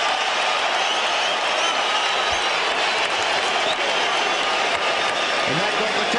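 Boxing arena crowd roaring after Vitali Klitschko showboats against a rocked Albert Sosnovsky at the bell, a dense continuous wall of cheering and applause filling the hall steadily throughout.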